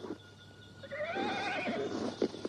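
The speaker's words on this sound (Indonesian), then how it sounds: "Aku mendengar suara ringkik kuda di dekat tempat ini. Ada kereta kuda." A horse near a horse-drawn carriage lets out one long whinny that rises and then falls away, fairly close and clear, followed by a few soft hoof sounds.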